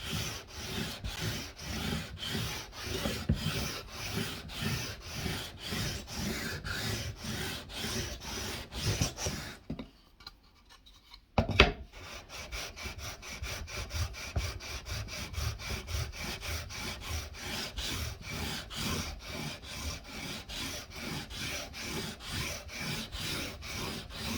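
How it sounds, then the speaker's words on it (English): Wood on an IYV Les Paul copy guitar is rubbed with 400 grit sandpaper in steady, rhythmic back-and-forth strokes, close and moderately loud, with a brief pause partway through. "Not sure if I mentioned, this is 400 grit sandpaper."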